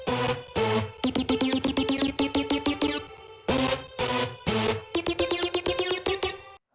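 A big room house synth lead layered with a supporting synth, made in Cakewalk by BandLab, plays a punchy staccato riff in quick rhythmic stabs with short pauses between phrases, loud and upfront with no talking.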